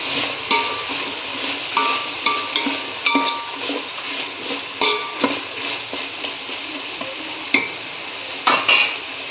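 Green peas and mint being sautéed in a pan for brinji rice, with repeated light clinks and scrapes of a spoon against the metal pan over a soft frying hiss, close and fairly steady.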